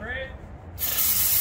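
Starting fluid sprayed from a can into the engine of a police SWAT truck, a sudden loud, close hiss that cuts in after a moment of quieter background and keeps going steadily.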